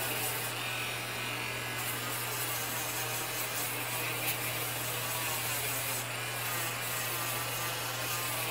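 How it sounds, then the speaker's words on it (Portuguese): Sandpaper rubs along the seam of a wooden 2D ballerina craft template in a continuous rasping scrub at moderate volume, over a steady low background hum. "Agora você vem com a lixa e dá acabamento"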